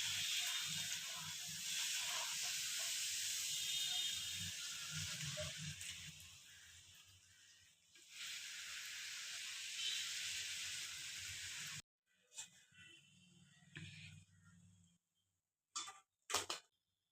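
A pressure cooker holding cauliflower masala curry vents steam in a long, steady hiss that cuts off abruptly, followed by quieter scattered ticks and short hissy bursts.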